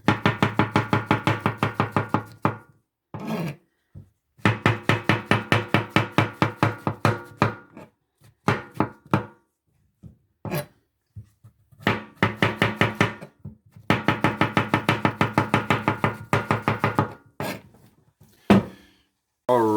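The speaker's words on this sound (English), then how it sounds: "I've chopped up all of our fresh morels, fresh mushrooms" Knife rapidly chopping fresh morel mushrooms on a cutting board, close and crisp, in fast even runs of strokes broken by short pauses and a few scattered single cuts.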